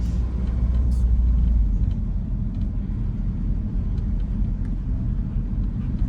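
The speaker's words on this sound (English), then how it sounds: "Right now we're driving down the 2600 block of Emory." A car drives down a residential street on the 2600 block of Emory in Shreveport's Queensborough neighborhood, giving a steady, close, low engine and road rumble throughout with no talking.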